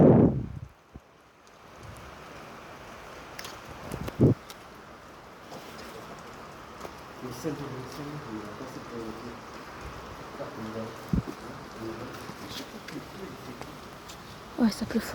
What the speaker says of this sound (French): Ouais, ça pleut fort.